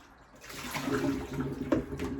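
Dyed cross stitch fabric is rinsed under running water, a soft close rush of water and splashing that swells after a quiet start and continues steadily.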